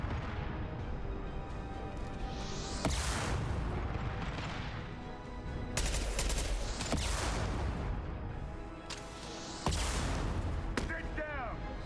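Impact shots and rocket fire in Mass Effect Legendary Edition: heavy booming blasts and sharp cracks burst over a dense, continuous roar of battle noise.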